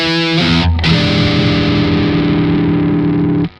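Electric guitar on a Strat's middle single-coil pickup through a distorted Triple Rectified EL34 amp profile. A brief chord stab is followed by a loud, sustained, saturated chord that rings for about three seconds before cutting off.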